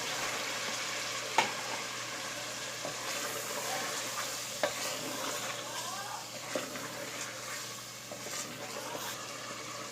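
Chicken pieces sizzle in fried masala in a pan while being stirred for bhuna chicken, a steady frying hiss with occasional spoon scrapes and knocks, close up, with faint talk in the background.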